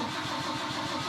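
A rebuilt engine in a Volvo 164 cranks with a rhythmic starter chug, loud and close, filling the whole moment without any voices.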